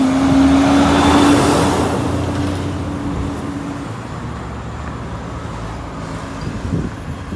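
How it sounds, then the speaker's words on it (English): Electric bus passing along a street in Bridgetown, Barbados, a whining electric motor tone and tyre hiss loud at first, then fading away into general street traffic noise. "So these are the electric buses here now that they are planning to overturn fully."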